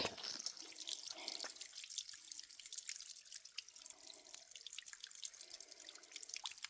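Water trickles and drips steadily from rock, a continuous faint seeping with scattered droplets and no voices.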